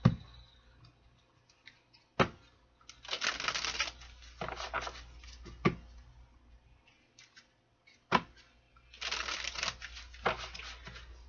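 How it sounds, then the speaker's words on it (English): A deck of cards being shuffled, in several bursts of riffling separated by pauses and sharp taps, close and fairly quiet with no talking. "One more shuffle."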